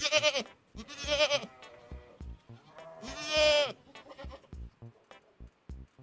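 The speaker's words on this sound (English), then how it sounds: "Just look up goat sounds." Recorded goat bleats play back on a livestream, a run of loud, wavering bleats and shorter calls spread over several seconds, close and clear, with no talk over them.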